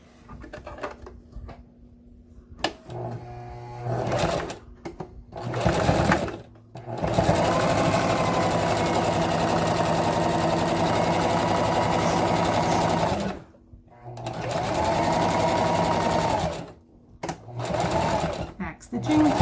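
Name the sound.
sewing machine sewing a handbag seam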